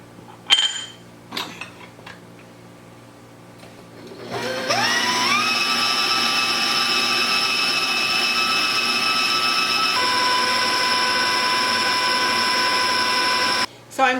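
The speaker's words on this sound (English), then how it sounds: "I'll be beating up the eggs" Electric mixer whirring steadily as it beats egg whites for a blackberry cloud pie meringue, starting after a few clinks and running loud and continuous with a slight pitch change midway, then cutting off near the end.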